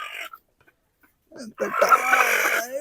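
Desi Aseel chickens on an Indian farm give a short cluck, then a louder, longer burst of clucking and crowing-like calls close by after a brief quiet gap.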